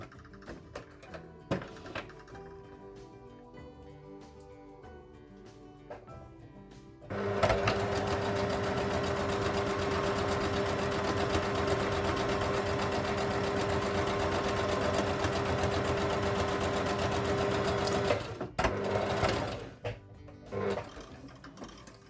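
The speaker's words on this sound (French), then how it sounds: "ma machine et je couds les 5 mm." A sewing machine stitches a fabric face mask in one long continuous run of rapid mechanical whirring, close and loud, preceded and followed by quieter handling clicks.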